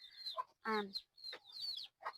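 Several quiet clucks and squawks from chickens, coming in short uneven bursts with brief pauses between them.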